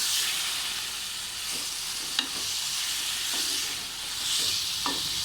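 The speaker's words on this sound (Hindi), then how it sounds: "पहले हमने इसमें बैंगन डाल देने हैं सारे। अच्छे से मिक्स कर लेना है।" Eggplant pieces being stirred and fried in a pan, a broad steady hiss of oil with a few faint spoon knocks spaced apart, close and even, no one talking.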